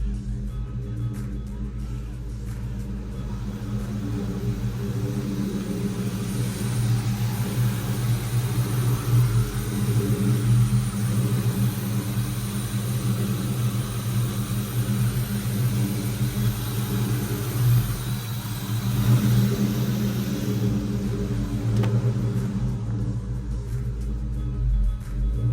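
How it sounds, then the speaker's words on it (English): A New Edge Mustang idles erratically, its engine giving a continuous low rumble that wavers and surges unevenly for nearly half a minute, heard close with no talking. "it's idling kind of crazy"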